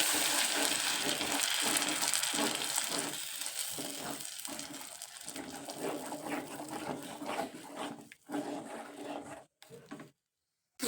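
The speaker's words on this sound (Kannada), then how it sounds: "ಈಗ ಜಾಸ್ತಿ ವಾಸನೆ ಹೋಗಂಗ ಇದನ್ನು ಫ್ರೈ ಮಾಡ್ಕೊಬೇಕು ಈ ಥರ" Ground tomato and garlic paste frying in oil in a pan, a steady loud sizzle with stirring scrapes that fades toward the end, no talking.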